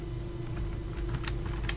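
Keys clatter on a computer keyboard in quick, uneven bursts of clicks over a steady low hum, close and fairly quiet, with no one talking.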